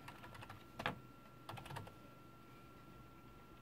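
Someone types a password on a new gaming PC's computer keyboard: a few quiet clusters of key clicks with pauses between, faint and close, no talking.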